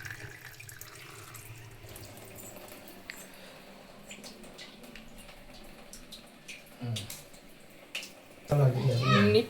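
Water runs from a pipe into a vessel while meat is washed piece by piece at home, a soft continuous splashing under quiet background voices, rising to a louder gush near the end.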